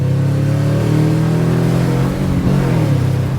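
A cammed Subaru Impreza GG with a Yonaka steel catback exhaust revs up close, a deep, throaty, continuous engine note that rises and holds with a lumpy idle character.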